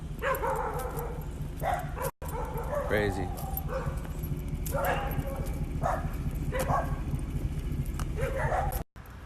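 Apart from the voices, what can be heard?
dogs barking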